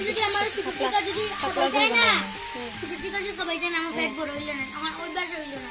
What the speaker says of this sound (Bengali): এইদিকে আমার চিকেনটা ফ্রাই হয়ে যাও